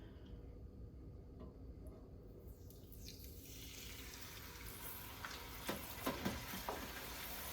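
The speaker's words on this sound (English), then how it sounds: "it says to lower your basket in slowly" Soft steady sizzle and bubbling as a fryer basket goes into hot oil in a T-fal compact deep fryer, the crackle building after a few seconds with a few small pops, fairly quiet and close, no talking.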